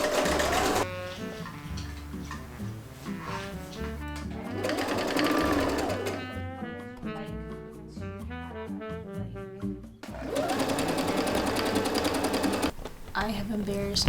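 A sewing machine understitching a milkmaid-style dress runs in steady bursts, its whirring stitch loud and close, with music playing underneath throughout.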